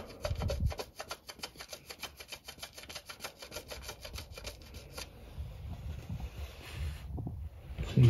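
A paint nib on a Porsche 911 is trimmed down by a fast, rhythmic run of fine rasping strokes, close and fairly quiet, fading into softer rubbing partway through.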